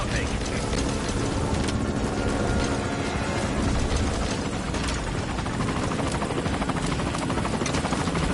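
A helicopter in the Metal Gear Solid V: Ground Zeroes game roars steadily and loudly throughout, its dense rotor chop and mechanical whine filling the scene without pause.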